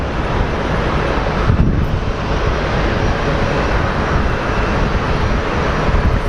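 A Frontier airliner takes off at Phoenix Sky Harbor airport, a loud, steady broadband jet roar with wind buffeting the microphone and no talk.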